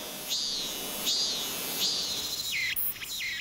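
A male cicada in a summer garden sings a series of shrill, buzzing calls that swell and drop in repeated pulses, close and clear above a faint hiss.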